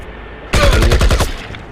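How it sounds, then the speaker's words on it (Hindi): Rapid burst of AK-47 automatic gunfire in the shooter game IGI, loud and close, around a dozen quick shots in a tight rhythm that stop abruptly, with a short fading tail and no talking. "इससे मैं AK-47 लेके मारूंगा।"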